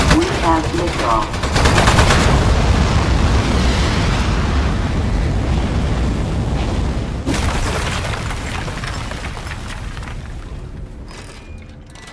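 Rapid gunfire and explosions from the video game Aperture Desk Job, a loud sustained barrage with a broad rumbling wash that gradually fades toward the end, with a burst of synthetic beeps near the start.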